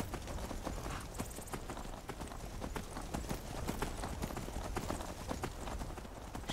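Horse hooves clip-clop steadily in the video game Skyrim, a rhythmic run of close, crisp hoof strikes over ambient background sound.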